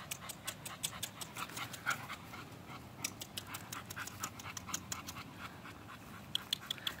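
A six-month-old American pit bull terrier pants steadily and close up, quick rhythmic breaths repeating throughout with a few scratchy movements, and no talking.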